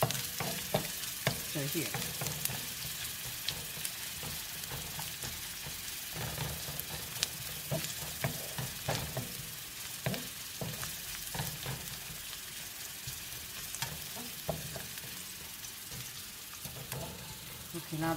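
Steady sizzle of ginger and garlic frying in a pan for Kerala kadala curry, continuous and fairly close, with occasional stirring scrapes and a brief spoken word near the start.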